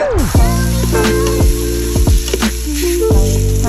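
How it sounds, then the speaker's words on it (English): Control dial of a Ninja Foodi multicooker turned from sear/sauté toward slow cook, giving a run of evenly spaced ratcheting clicks with electronic tones, while sausage for a cheese dip sizzles loudly underneath. "Now we're gonna turn it down to slow cook."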